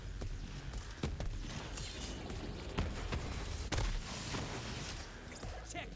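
Gunfire in the Borderlands 3 shooter game, with scattered sharp shots and booms over a dense, noisy mix of game action.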